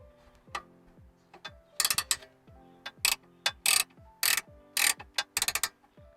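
Socket and wrench working the tie rod end nut on a 2010 Ford Mustang, a series of sharp metallic ratchet clicks in irregular bursts, close and fairly quiet, with faint mechanical tones between them.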